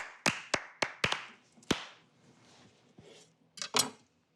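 Slow, deliberate hand clapping in a kitchen after a sandwich is cut, with about five sharp claps spaced at a steady pace, then a pause and two more claps near the end.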